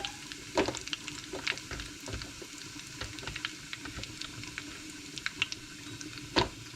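Dal tempering frying in a pan, a steady low sizzle broken by scattered sharp pops and crackles, one louder pop near the end, heard close with no talking.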